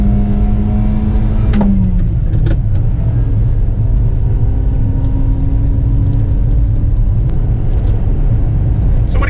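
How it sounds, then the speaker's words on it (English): A Subaru Sambar Dias kei AWD microvan engine pulls steadily uphill in second gear, a loud continuous drone and rumble heard from inside the cab with no talk. "Here's our hill, and just like the Honda, second gear, we're pulling up it just fine."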